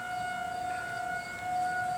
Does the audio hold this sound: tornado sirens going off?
yes